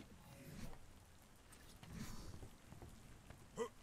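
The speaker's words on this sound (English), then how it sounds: "It's raining. We gotta get a roof on," Steady rain falls in the ARK: The Island Ascended game world, a soft broadband patter at moderate level with a brief sharper knock near the end.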